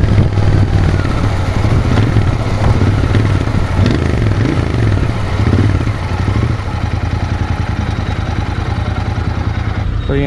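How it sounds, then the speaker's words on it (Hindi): Royal Enfield Continental GT 650 parallel-twin motorcycle riding in third gear at around 80 km/h, its engine throbbing steadily and loudly up close with some rattling clatter, no voices over it. "यहाँ पे 80 तो बहुत ही नॉर्मली बाइक चला जा रहा है, और थर्ड गियर में है और 80 चला जाता है"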